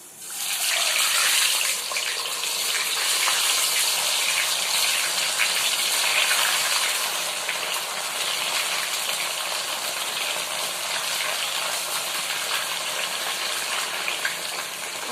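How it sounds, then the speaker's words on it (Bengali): Paneer fries in a hot pan on a high flame at home, giving a steady, loud, even sizzle that holds without a break and has no talk over it. "আমি এবারে আস্তে আস্তে পনিরগুলোকে ভেজে নেব।"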